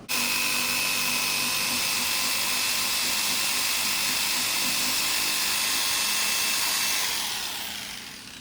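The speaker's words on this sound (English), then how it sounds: "So, jigsaw it is." A jigsaw cuts through a part for a Bay Craft 17'5 skiff, a continuous buzzing saw whine running close and loud, then tapering off near the end.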